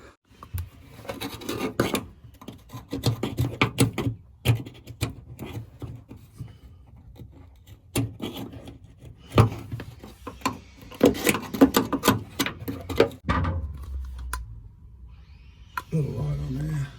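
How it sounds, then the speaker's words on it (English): Screwdriver tip poking and scraping dirt from a drilled hole on a blown Holden VE SS ute, giving irregular gritty rasps and clicks at close range. "I might get the screwdriver in there and just poke around and clean the rest of that up."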